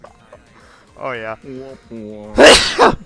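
A single loud sneeze bursts out near the end, following brief speech, close and sharp, with a short second burst right after.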